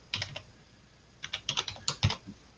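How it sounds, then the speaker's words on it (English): Keystrokes on a computer keyboard while programming saber effects for a Proffieboard: a short burst of taps, a pause, then a quicker run of clicks, close and fairly quiet with no talk. "I'm just typing."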